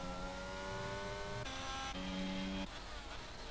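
Simulated F2 race cars, a Ferrari and an AlphaTauri, scream along at the Portuguese GP in a racing video game, with steady high engine whine shifting pitch abruptly as gears change, loud and continuous.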